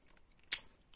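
Scissors make a single sharp snip through 160 gsm scrapbooking paper, loud and close against a quiet room with no talking.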